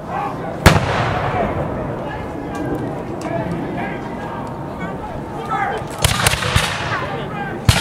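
Musket fire at a battle reenactment at Black Creek Pioneer Village: sharp, loud scattered shots, a few close together, over a constant crowd murmur with people talking throughout.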